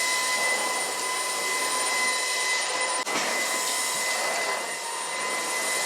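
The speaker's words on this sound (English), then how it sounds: "now I think I'm going to vacuum really quickly" A household vacuum cleaner running during home cleaning, a steady loud whine with a constant drone that barely changes, with one brief bump midway.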